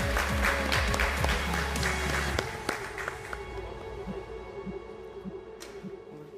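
Applause from an audience at an esports league press conference, loud at first then thinning into scattered clapping and room noise as players take their seats.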